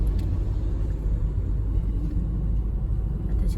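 A motor tricycle moves along a tree-lined road in Batangas, heard as a steady, heavy low engine rumble that holds throughout without any voices.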